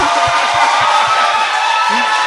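A political talk-show audience claps and cheers in a steady, dense wash of applause with rhythmic low thumps underneath, a brief voice rising near the end.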